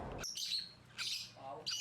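Lovebirds in a breeding setting give three bright chirping bursts separated by short gaps, with a lower squawk between them, close and fairly clear.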